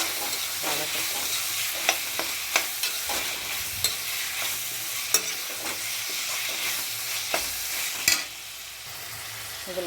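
Chopped tomatoes sautéing in a pan for prawn biryani, a steady close sizzle and frying hiss with repeated sharp taps of a spoon stirring against the pan.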